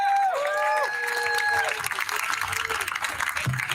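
An audience at a Washington DC rally applauds and cheers for a speaker, with a steady wash of clapping rising after a spoken introduction, and a voice heard over the start.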